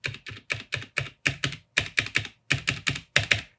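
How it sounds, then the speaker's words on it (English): Keys clack on a Womier K66 66-key backlit keyboard with Gateron red switches in a quick, regular typing rhythm. Each stroke is a crisp, close tap, with short pauses between bursts and no speech. "the spacebar, it sounds a little weird, a little cheap for me."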